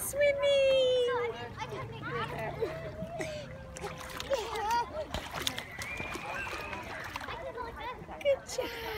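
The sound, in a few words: child swimming and splashing in a pool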